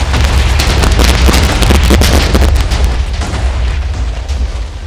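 Loud, rumbling explosions in a Minecraft horror map, with a dense crackling burst of blasts up close and a heavy low boom throughout.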